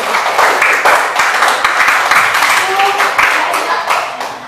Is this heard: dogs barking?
no